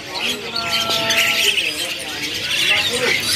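A pleci white-eye of the Bustomi type at a bird market in Jakarta chirps in quick, bright repeated twitters, close and fairly loud over busy market chatter.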